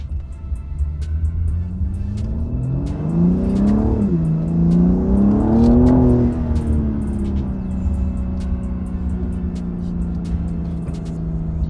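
A BMW G80 M3 fitted with an MST intake accelerates, its engine note rising in pitch for a few seconds, dipping briefly, climbing again, then settling into a steady cruising drone, close and fairly loud with no talking.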